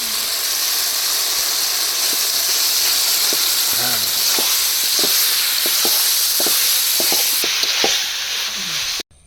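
Chicken keema fries in a pan at a Bangladeshi village cooking spot, giving a continuous loud sizzle and hiss with repeated scraping stirs throughout and a brief voice in the middle.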